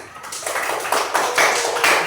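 A classroom of students claps together in a short burst of applause, moderately loud and uneven, with a few stronger swells near the end.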